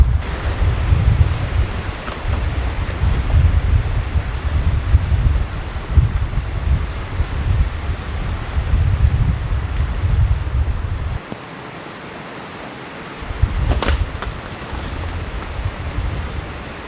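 Strong wind buffets the microphone at a lake campsite, a steady roaring rush with gusts that briefly drop off before surging again.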